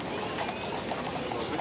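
Horses' hooves clip-clop at a steady pace in a royal funeral procession, a faint, continuous patter of many hooves heard from a distance under broadcast background noise.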